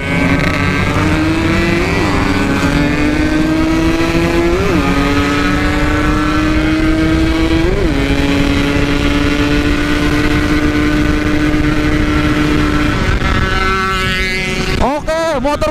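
A Yamaha RX King two-stroke motorcycle engine revs hard and steadily during a night ride, its rising and falling tone loud and close, with a crackling burst near the end.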